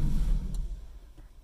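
A car engine idles steadily with a low rumble, fading slightly, with a couple of faint ticks on top.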